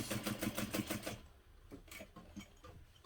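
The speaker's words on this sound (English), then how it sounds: "I'm just going to sew all the way down the right side of the pocket" A sewing machine stitching down the side of a hobo bag pocket, a quick rapid burst of rhythmic needle clatter, then quieter scattered clicks, faint and close.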